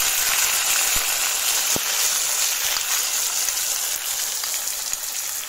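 Onion paste hits hot oil with bay leaves in a pan while cooking chicken kosha, giving a loud, steady, hissing sizzle with a few sharp pops and crackles, close up and uninterrupted by speech.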